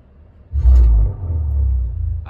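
From the speakers of an electric Chevrolet Silverado RST pickup comes a synthetic engine rumble, a deep, steady growl that swells up after a short quiet start and then holds, fairly loud and unaccompanied by speech.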